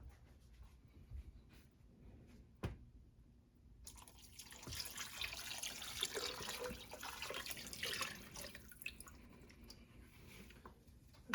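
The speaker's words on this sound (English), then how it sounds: "I'm going to go get the rest of the beef stock and also pour it in there" Beef stock poured into a pot for venison birria, a soft splashing pour that starts after a sharp knock and runs for several seconds before tapering, quiet and close with no talking.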